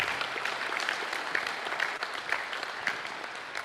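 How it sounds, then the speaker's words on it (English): An audience at a live talk in Durban, South Africa, applauds steadily as a dense, continuous wash of many hands clapping at moderate loudness, with no voices over it. "And they deserve an applause, absolutely, absolutely."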